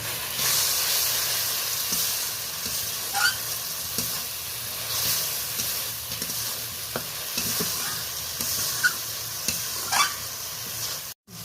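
Spice paste (masala) being stir-fried in hot oil in a pan for a fish curry: a steady, continuous sizzle with scraping stirring strokes at intervals, close and alone with no voices.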